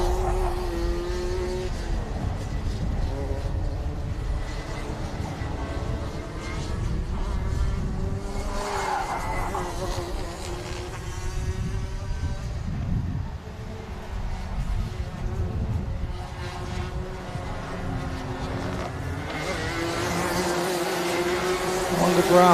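Racing karts at a club kart circuit drone and whine continuously at close range, engines rising and falling as they pass, under steady commentary speech.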